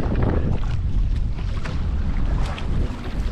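Strong wind roars across the microphone out on open water, a steady buffeting rush with the low rumble of a boat.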